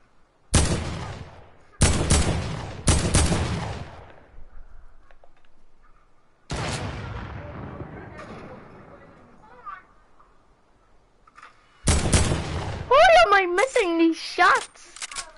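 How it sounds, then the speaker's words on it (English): Video game gunfire cracking out in several loud, sharp bursts and volleys separated by short pauses, with a voice heard near the end. "Shots!"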